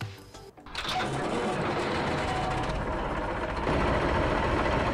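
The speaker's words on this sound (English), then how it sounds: "Nice engine sounds." Simulated Massey Ferguson tractor engine from a farming game running steadily, a loud continuous rattling drone that starts after a brief quieter moment and holds level to the end.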